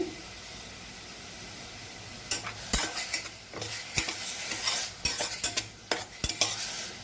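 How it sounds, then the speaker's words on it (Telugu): Onion paste frying in a pan with a pinch of salt, a steady sizzle broken by repeated scraping strokes of a spoon against the metal, close and fairly loud. "ఆనియన్ పేస్ట్ కొంచెం బ్రౌన్ అవ్వాలి. కొంచెం సాల్ట్ వేద్దాము, తొందరగా ఆనియన్ బ్రౌన్ అవుతుంది."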